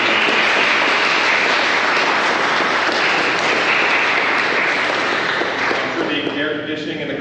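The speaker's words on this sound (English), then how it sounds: "Let's have a round of applause for all the parents" At an outdoor graduation ceremony, a large crowd delivers sustained, loud, dense applause for the graduates' parents, a steady roar of clapping that begins to fade near the end as voices return.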